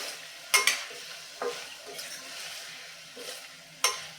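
Vegetable masala khichdi stirred in a pan, with a soft scraping of the spoon and occasional sharper clinks against the metal over a faint sizzle, heard close.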